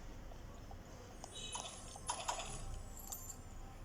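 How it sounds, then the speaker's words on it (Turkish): Faint metallic jingles of a key bunch being handled, a few brief clusters of rattling over quiet room noise. "O kaçıncı anahtar?"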